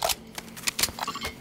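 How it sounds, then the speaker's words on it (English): Rifle magazine change in Call of Duty Modern Warfare 2 on PC: a quick, close series of light metallic clicks, snaps and rattles lasting about a second and a half. "Changing mag."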